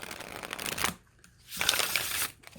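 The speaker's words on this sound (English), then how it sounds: "I could shuffle this damn deck all day" Tarot card deck shuffled by hand in two bursts of crisp riffling, close up, with a short quiet gap between them.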